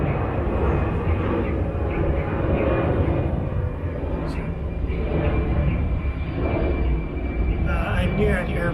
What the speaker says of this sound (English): Let's wait for that airplane.